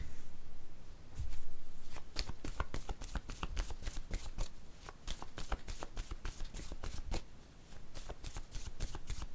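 Word cards are shuffled and riffled close up in a quiet room, a dense run of quick papery flicks and snaps with short pauses between bursts.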